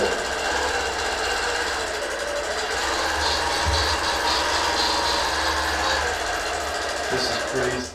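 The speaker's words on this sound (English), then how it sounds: "just going to stitch a straight line down to show what the maximum space I have on the machine" A quilting machine stitches a straight line in one continuous, steady mechanical whir that stays loud and even from start to finish.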